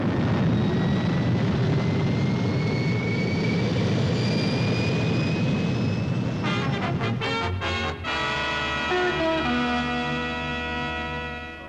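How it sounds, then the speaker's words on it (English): The Fireball XL5 spacecraft fires its main boosters with a loud, sustained roaring rush, then a deep droning hum with layered tones takes over after a sharp transition partway through. "Firing main boosters."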